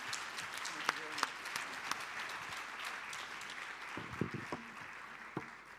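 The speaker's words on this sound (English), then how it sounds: "Please give our two speakers a big round of applause." A conference audience at a UN high-level meeting on noncommunicable diseases applauds two speakers, steady moderate clapping throughout with a few sharper individual claps standing out, while a voice talks over part of it.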